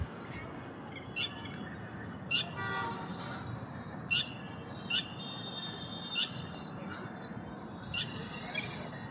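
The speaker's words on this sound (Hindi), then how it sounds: "मुझे आज यहाँ की चिड़ियों की आवाज़ इतनी प्यारी लग रही है" Birds calling outdoors, sharp repeated chirps about every second over a steady background hiss, no speech.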